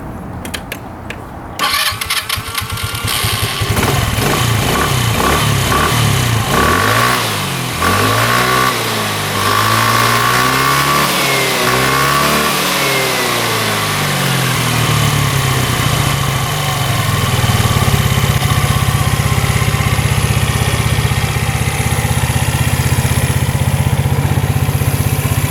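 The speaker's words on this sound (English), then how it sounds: "let's see if that battery has enough juice to crank it over" A free used scooter, sold as unfixable and only good for parts, cranks over on its battery, catches, and settles into a loud steady idle with revving swells, heard close up and with no talk.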